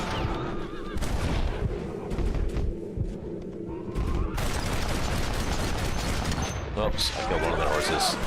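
Gunshots crack and echo through a Red Dead Redemption gunfight, bursts of loud rapid fire with short gaps, while a player talks over parts of the shooting.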